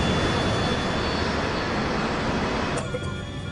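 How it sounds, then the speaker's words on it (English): A DC-9 airliner plummets toward the ground at high speed, a loud, dense roar of rushing air and engine noise that fills the sound, then thins slightly near the end. "The DC-9 plummets towards the ground at over 700 kilometers per hour."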